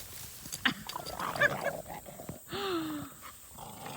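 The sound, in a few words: dogs growling while playing over a stick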